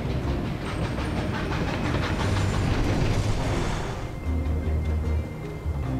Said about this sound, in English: I can understand not being able to walk on the tracks because of the trains, but in this case, there's only one train.